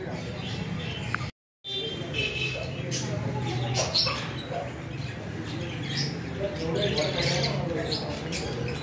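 Many parrots squawk and chirp at once in a busy, noisy bird shop, a constant chattering din with people talking underneath.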